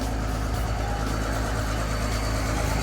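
The six-cylinder turbo diesel engine of a Komatsu WA300-3 wheel loader idles steadily at close range, a constant low rumble with a mechanical clatter and no breaks, no voices.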